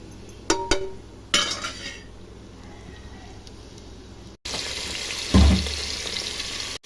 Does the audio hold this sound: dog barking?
no